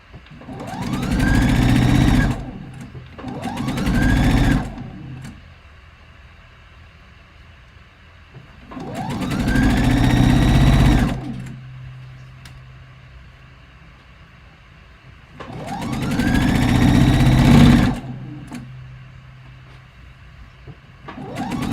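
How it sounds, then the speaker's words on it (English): A sewing machine stitches a robe jacket straight over pins in loud, sustained runs of rapid whirring, three long bursts separated by quiet pauses, with no talk over it. "As I just literally sew over my pins."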